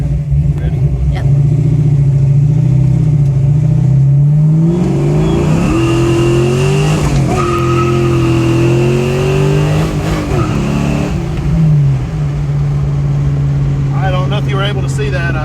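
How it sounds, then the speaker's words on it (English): A Fox Body Mustang with a no-lift power-shift setup accelerates hard, its engine note climbing steadily and dropping sharply at each full-throttle gear change, loud and close, with people talking over it. "you saw when I shifted second gear, I had the gas pedal on the floor and the RPMs dropped all the way down"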